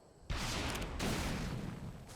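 Rocket launcher blasts exploding against a base in Ark Survival Evolved, a sudden loud detonation followed by a second roaring burst and lingering rumble, close and alone without talk.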